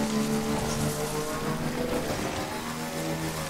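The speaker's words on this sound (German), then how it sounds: "Das ist nur Regen." Steady rain falls in the video game Death Stranding, a continuous even hiss of drops on surfaces that holds at one level throughout with no voices.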